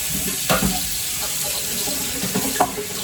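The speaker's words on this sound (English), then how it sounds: "So a couple of bits to wash up." A kitchen tap runs steadily into a sink while a few dishes are washed up, with soft clinks and splashes standing out against the constant rush of water.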